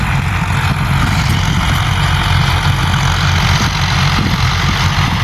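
A tractor engine runs with a rotavator working a wheat field, a continuous loud low-pitched drone that holds steady throughout with no talking.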